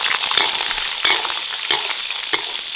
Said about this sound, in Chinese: 锅头稍微来点油，然后把腊肉颗颗倒进来爆香。